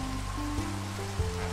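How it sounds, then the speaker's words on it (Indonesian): Minecraft rain falls in a steady, even patter, heard close and continuous under low background tones with no speech. "Hujan pembawa hoki biasanya."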